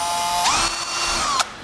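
A power drill whirs up close while installing a Taco Garage DMM on a Toyota Tacoma TRD Pro, its pitch climbing and falling through a short run and ending in a sharp mechanical ratchet click.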